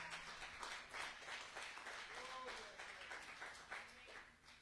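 A church congregation gives thin, scattered applause, a light patter of claps mixed with murmuring voices, faint and uneven throughout.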